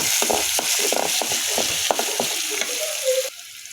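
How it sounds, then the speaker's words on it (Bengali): Onion and garlic frying in hot oil with garam masala for a home-style chicken masala, a steady close sizzle with scraping stirs, then quieting near the end. "এখানে পেঁয়াজ রসুন এগুলো তেলে ভেজে নিলাম এখন দিয়ে দিলাম গরম মশলা তো এগুলো লাল লাল করে ভেজে নেব"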